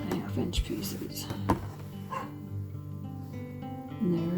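A dog barks and whines from somewhere below in a house, a few short yelps and whimpers mixed in with close talking.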